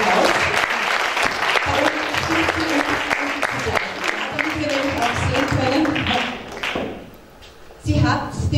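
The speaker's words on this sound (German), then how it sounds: "Wir begrüßen Sie mit einem liebevollen Applaus." Sustained applause from an award ceremony crowd, dense clapping throughout with a brief lull near the end before it swells again.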